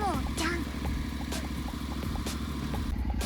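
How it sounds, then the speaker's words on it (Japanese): A Honda NM4 motorcycle with DCT idles steadily after starting, a low rhythmic engine thrum close by, with people talking and a brief laugh over it. "おお、無事にエンジンはかかりました"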